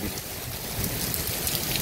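Steady rain pours down in Dhaka Cantonment, a dense even patter of drops on surfaces, close and continuous.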